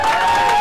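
A brief, loud burst of audience clapping at a Santa Barbara Unified school board meeting, close and dense for well under a second.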